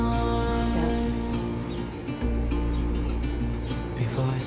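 Crickets chirp steadily in a small home garden under a droning, tonal background hum. The rapid chirping continues without a break, moderately loud and without speech.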